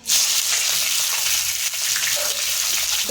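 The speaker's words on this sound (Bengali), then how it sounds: "পেঁয়াজটা আমি একটু লাল লাল করে ভেজে নেব" Steady, loud sizzling of onions frying in hot oil in a kadai with bay leaf and green chillies, a continuous crackling hiss with occasional stirring noises, no voices.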